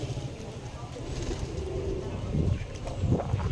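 Domestic pigeons kept on an abandoned rooftop coo softly in low, murmuring bursts, mixed with general outdoor noise and faint voices nearby.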